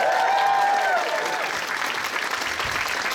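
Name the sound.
convention audience applause for Mr. Bison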